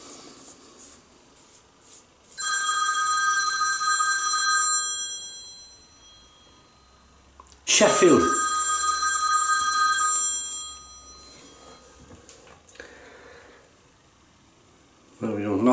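A mobile phone rings indoors in two long electronic ringing bursts separated by a pause, loud and near, with a short spoken word and some rustling between them.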